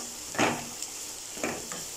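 Carrots, beans and capsicum are sautéed in a pan for fried rice, giving a soft, steady sizzle with two brief scraping stirs of the spatula, faint and close.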